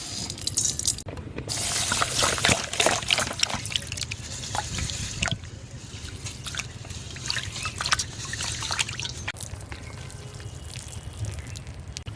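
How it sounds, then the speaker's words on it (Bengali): Rice grains being rinsed by hand in water, with steady trickling, dripping and sloshing close by, before cooking a village-style milk payesh from reduced milk. "চালটা ধুয়ে নিচ্ছি।"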